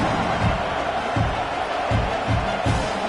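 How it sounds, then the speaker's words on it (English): Broad, steady roar of a stadium crowd cheering in the College Football 26 video game, Texas Tech at Oklahoma, as a kickoff unit lines up, with thumping low bursts recurring throughout the three seconds. "this crowd is feeling themselves after that last drive"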